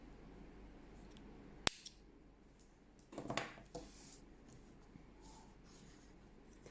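A single sharp snip of scissors cutting a crocheted yarn tail on a small sheep toy, followed by soft rustling of yarn in a quiet room.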